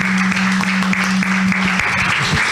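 Applause from an audience welcoming a speaker at a heritage talk, steady clapping with a sustained tonal hum underneath, continuing for a few seconds.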